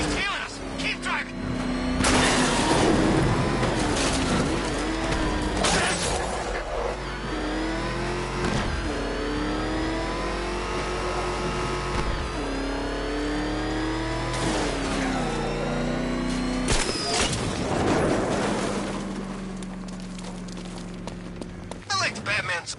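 A car engine revs and accelerates loudly in Batman: Arkham Knight, its pitch climbing and falling through several gear changes across the whole stretch, with frantic character voices shouting over it during a chase.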